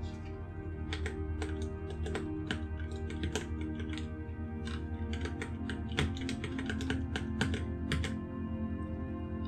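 Quick, steady keystrokes on a computer keyboard as an email address is entered while setting up an IndieGala account, the irregular clicks running continuously over a low background hum.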